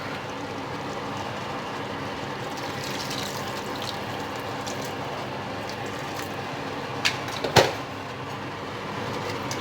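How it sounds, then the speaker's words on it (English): Water pours into a cooking pot of pork sarciado, a steady wash of running liquid with a few clanks of the pot near the end. "What I'll do is I'm going to add a little bit of water."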